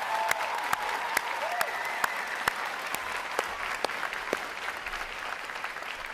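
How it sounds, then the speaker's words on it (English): A large crowd at a U.S. Navy boot camp graduation ceremony applauds the graduating division, a broad, steady wash of clapping. Sharp percussive hits sound at regular intervals through it. "Please join me in giving them a round of applause"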